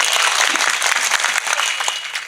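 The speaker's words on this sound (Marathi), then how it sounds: "वाजवा टाळी एकदा" A devotional kirtan audience claps together in a dense, sustained burst of applause, loud and close, fading slightly toward the end.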